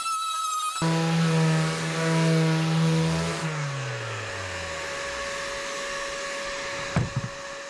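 An Einhell 18V cordless orbital sander, model TE-OS 18/230 Li, runs with a cordless vacuum attached for dust extraction, a loud steady motor hum and whine that winds down gradually, ending with a short knock.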